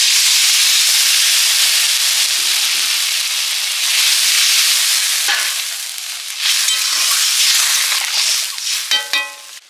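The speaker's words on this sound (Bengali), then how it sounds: "এবারে জল দিয়ে দেবো।" Water poured into a hot pan of Bengali fish curry, a loud steady sizzle and hiss that fades and flares as it settles, with a few brief stirring clinks near the end.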